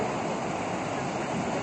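Floodwater rushing through a village in Badam, Tulkibas district, Turkistan region, a dense, steady roar of churning water close by with no break.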